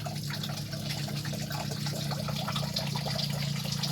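Water runs steadily from a tap in a beach camp restroom, a continuous splashing trickle that stays close and fairly loud, with no voices.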